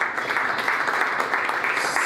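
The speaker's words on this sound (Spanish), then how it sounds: "Aplauso nivel 1." Steady applause from an audience at a stand-up comedy seminar showcase, dense continuous clapping filling the whole stretch at an even level with no voices.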